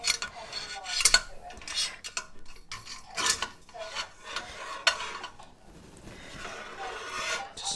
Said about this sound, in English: I have to slowly stir.